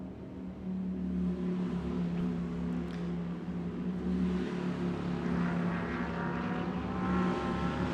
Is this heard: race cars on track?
yes